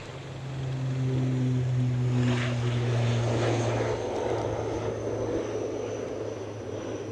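An airliner takes off from Edinburgh Airport into a strong headwind during Storm Amy, a broad, steady engine roar with a low droning hum that gradually eases, heard from a distance against gusty wind noise.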